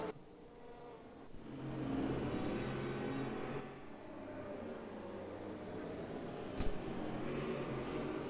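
Engine noise from race cars in a racing video game of classic GTO and Group C endurance cars: a low, faint, continuous drone that swells and dips, with a brief click partway through and no voices.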